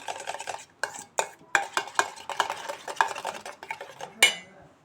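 A metal spoon or whisk beats a mixture with salt in a steel bowl for mushroom rice, producing rapid, close, clattering scrapes and clinks in quick irregular bursts, with no talking.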